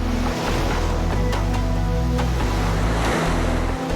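Surf breaking and churning at the base of a 300-foot sea cliff on the Spanish coast, a steady, loud roar of water with gusts of wind and no voices.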